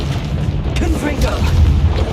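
A Confringo fire-blast spell bursts in the Hogwarts Legacy video game, giving a sustained, rumbling, boom-like blast over a dense, steady din of game sound effects.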